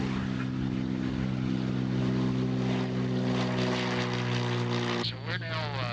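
A small private airplane in flight near Disneyland, heard from inside the cabin: a loud, steady propeller and engine drone with a constant hum that continues throughout, and a brief clatter near the end.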